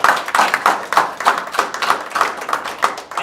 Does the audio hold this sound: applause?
yes